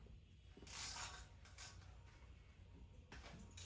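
Ratchet wrench tightening a bolt on a 5.3 LS engine during a teardown: bursts of rapid metallic clicking close up, several separate runs of ratcheting with short gaps, no talking.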